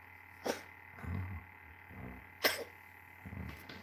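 A cat coughs and hacks up a furball in a few short, wheezy bursts, close by and fairly quiet, with pauses between the retching sounds.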